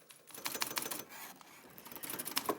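Keys are tapped in quick irregular clusters, light clicks coming in bursts with brief pauses, faint and close, with no voices over them.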